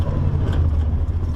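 A Nissan GT-R Nismo holds third gear while lapping the Nürburgring, producing a loud, steady low engine roar throughout a brief stretch.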